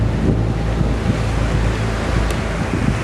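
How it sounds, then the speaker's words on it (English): A cruise ship's bow cuts through open sea, with a steady, loud rush of waves and water spray mixed with heavy wind buffeting the microphone throughout. "There's the front of the ship, cutting through the water."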